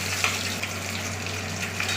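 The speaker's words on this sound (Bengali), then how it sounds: "এই মাছ ভাজা চাপিয়ে দিয়েছি।" Katla fish frying in hot oil gives a close, steady sizzle with a few sharper pops and spits, constant in level and with no voices.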